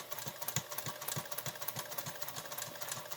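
Sewing machine running steadily and close up, stitching a 1/8-inch seam through the fabric and lining layers of a face mask, with a quick regular rattling pulse throughout.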